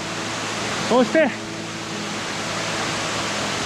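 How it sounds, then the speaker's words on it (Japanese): The Hishi waterfall in Kawamata, Inami, Wakayama, swollen with heavy flow, roars as a steady broadband rush throughout, while someone speaks briefly over it. "左の滝も落差が大きい見事な滝であります"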